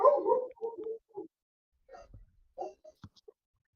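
A dog making soft, scattered yips and short barks, faint and close, with pauses of silence between bursts.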